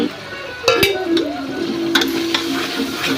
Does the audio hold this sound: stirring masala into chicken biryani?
yes